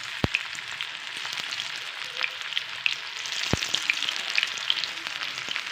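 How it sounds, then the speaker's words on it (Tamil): Spiced bitter gourd pieces deep fry in hot oil, giving a continuous close sizzle with bright crackles and a couple of sharp pops or taps. "இப்போ பாருங்கள் எண்ணெய் சூடாயிருச்சு. நம்ம ஒன்று ஒன்றா எடுத்து போட்டு பொரித்து எடுத்துக்கலாம்."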